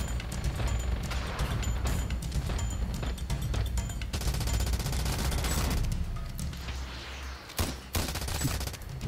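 Dense gunfire in the video game Ravenfield: rapid automatic bursts and scattered single shots crack over a constant battle din, loud and continuous, with no speech.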